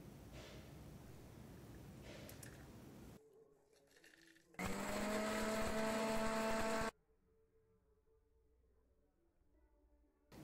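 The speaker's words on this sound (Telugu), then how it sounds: "ఇది బాగా చల్లారిన తర్వాత దీన్ని మిక్సీ పట్టాలి." A kitchen mixer grinder grinds cooled, dry-roasted curry leaves into spice powder, giving a loud, high, whining burst of a couple of seconds between quieter stretches of noise.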